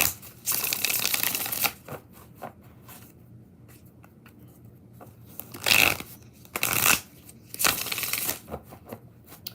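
A deck of cards being shuffled in several bursts, with louder riffles near the middle and end, crisp and close with brief pauses in between.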